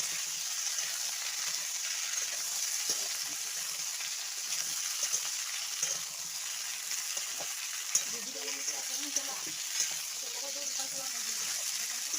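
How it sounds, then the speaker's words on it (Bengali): Potatoes are stirred and fried in a pan in a home kitchen. A steady, faint hiss of frying runs throughout, with soft scraping and stirring sounds near the end and no speech. "ভালো করে নেড়েছে আলুটাকে একটু কষে নেবো"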